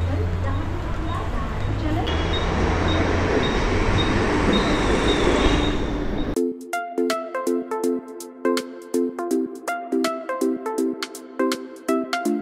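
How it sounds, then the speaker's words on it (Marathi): A local train at Bhayandar station on the line to Palghar, a loud steady rumble of carriages for several seconds, then cut to a series of repeated tonal pulses, with people talking. "इथून आमची ट्रेन आहे पालघरसाठी."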